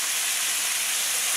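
Chicken and peas fry in a pan with a continuous bright sizzling hiss, steady and close for the whole moment, with no talking.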